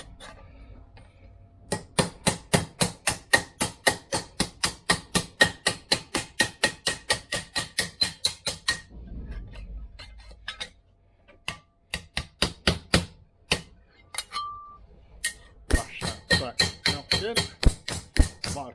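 Rapid, steady metallic tapping on a sheet metal sill piece during Land Rover Discovery 300 TDI sill repair, a long even series of close sharp hits, then a short pause and more irregular blows.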